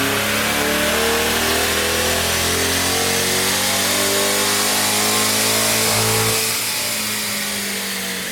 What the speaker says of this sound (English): With the car back on the dyno, Vlad dials it in via HP Tuners.